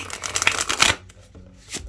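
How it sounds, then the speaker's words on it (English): A brand-new, slightly stiff tarot deck is shuffled by hand: a dense burst of quick riffling card flutter, then a pause and a few softer, scattered card flicks near the end. "This is the first time I'm shuffling this."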